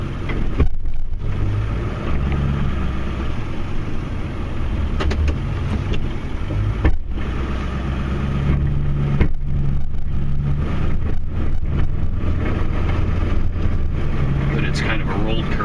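A Ford Super Duty F250 pickup with a 7.3 Powerstroke diesel engine snowplowing, its engine droning and revving up and down in cab-interior rumble, with brief clunks as the plow works, while someone talks throughout.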